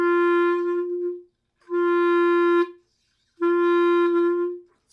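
Three separate clarinet notes on the same low pitch, each held about a second with gaps between, the attacks slightly uneven and not crisply tongued.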